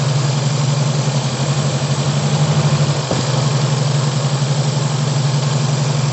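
A Toyota Corona carburetor engine idles roughly after a blip of throttle, a steady low close-up drone with a slight waver and a short dip near the middle, heard alone.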